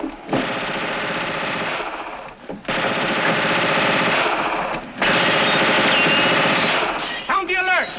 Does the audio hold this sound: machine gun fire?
yes